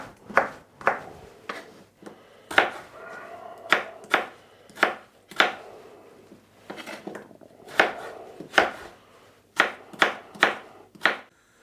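Sharp knife chops dicing potato into 1 cm cubes on a board, quick uneven strokes in bursts with short pauses, close and fairly loud, no talking.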